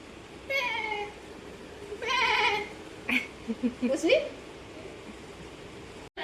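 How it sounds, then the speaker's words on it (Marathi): A goat bleats twice in wavering, nasal calls, moderately faint over a hissy outdoor background, followed by a few short, scattered sounds. "इथे बकरी कशी आली आता बकरी काय"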